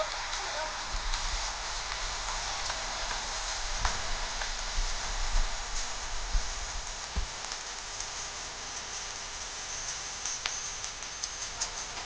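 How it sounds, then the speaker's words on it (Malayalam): Steady, heavy rain falls without easing, making a continuous hiss of drops on surfaces that stays even and moderately loud throughout, with occasional faint knocks in the background. "ഈ മഴ ഇപ്പോൾ ഒന്നും കുറയുന്ന ലക്ഷണം കാണുന്നില്ല"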